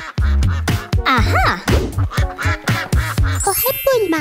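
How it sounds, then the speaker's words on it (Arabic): Duck quacks, likely from a toy, in a rapid series of loud, close, nasal calls with short pauses, one drawn-out squawk near the middle and a higher squeak toward the end. "بطة."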